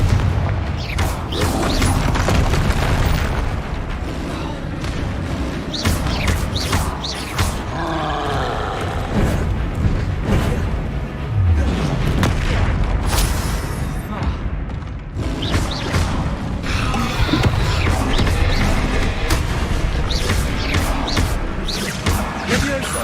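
Confringo blasting-spell explosions in Hogwarts Legacy, with a troll nearby, sound as repeated heavy booms and crashes over dense game noise and music for about twenty seconds.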